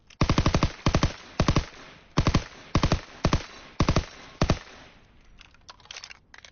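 Video game gunfire from Call of Duty WW2 sounds in short, sharp bursts of rapid automatic shots, about eight clusters spaced roughly half a second apart, with a few faint scattered pops trailing at the end.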